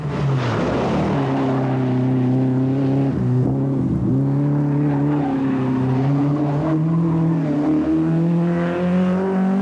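A Sunbeam rally car races on the 1992 Tour of Mull, its engine note climbing and dropping through gear changes, loud and close for the whole stretch with no talk over it.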